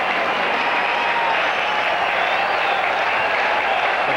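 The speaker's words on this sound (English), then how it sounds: "The crowd on its feet, the cheering." Stadium crowd at a 1980 White Sox versus Blue Jays baseball game in Chicago roars and cheers steadily, a dense, loud wash of voices and applause with no break.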